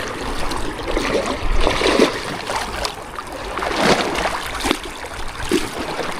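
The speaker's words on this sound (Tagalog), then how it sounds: "Malakas agos dun sa baba oh." A strong river current rushes and gurgles steadily at close range, with broad churning water noise swelling and easing throughout and a few brief splashes, no voices.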